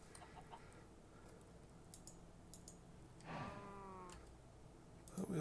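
A chicken in the video game Project Ozone 3 (Minecraft modpack) gives a drawn-out cluck over quiet background clicking and faint tapping, fairly close and moderately loud.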